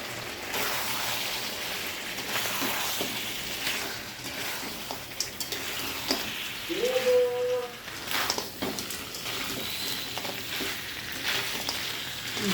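Mutton head curry with potatoes and green chillies frying in a pan, a steady close sizzle throughout with a brief louder burst midway as the ingredients go in, no talking.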